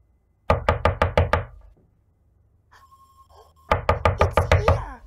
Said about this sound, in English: I think someone is knocking the door.